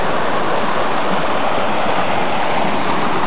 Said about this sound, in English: Cute little waterfall coming down.